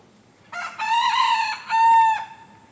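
A jungle fowl rooster on a farm crows nearby and loudly in a clear two-part call, a long bright cry followed by a shorter final note, with only faint background between.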